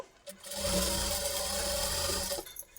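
A sewing machine runs in one continuous burst stitching a straight seam with a two-inch margin on a lehenga blouse, a close, steady whirring hum that starts and stops cleanly.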